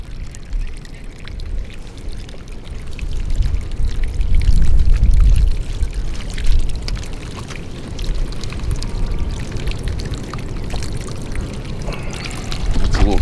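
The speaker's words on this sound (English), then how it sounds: "I'm going to have to drain this water out, let the water out" Water drains out of a trough, pouring and splashing steadily for several seconds, a continuous gushing flow close by, with a few clanks and knocks mixed in.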